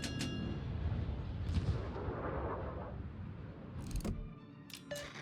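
Battleship guns fire in the World of Warships naval video game, with deep booming rumbles that swell and fade over a low steady background, and a couple of sharper cracks near the end.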